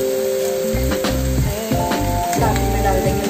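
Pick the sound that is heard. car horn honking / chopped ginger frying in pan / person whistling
chopped ginger frying in pan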